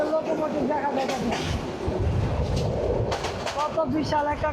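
Tista Express train in motion heard from a window, a rumbling rattle of the carriage beneath a person talking throughout.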